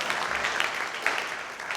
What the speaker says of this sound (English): let's give everybody a hand of applause for everybody